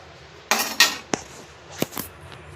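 A few clanks and scrapes of a utensil against a pan as Yippee noodles are mixed, sharp isolated knocks spread over a couple of seconds in a quiet kitchen.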